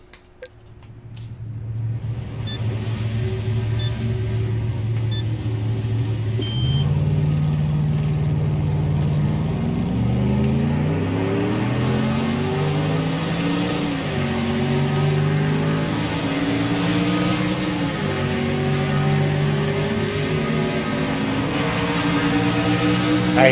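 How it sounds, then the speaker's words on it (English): NASCAR-style race car engines in the racing game Wreckfest at Talladega, starting up and revving, then a loud, sustained roar of several engines shifting and climbing in pitch as the pack accelerates, no talking. "So let's start our engines."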